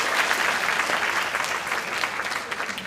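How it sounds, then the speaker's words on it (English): Brief burst of audience applause at a conference workshop, steady dense clapping from a crowd throughout. "Round of applause."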